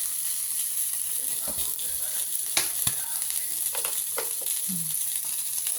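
Dried fish (daing) fry in a small amount of oil, giving a steady, fairly quiet sizzle up close with scattered pops, scrapes and stirring knocks.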